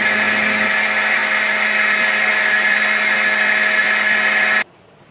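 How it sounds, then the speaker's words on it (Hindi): An electric blender whirs steadily at high speed, mixing cake batter with a tablespoon of vanilla essence, loud and continuous for several seconds before cutting off abruptly near the end. "आपने ब्लेंड करना"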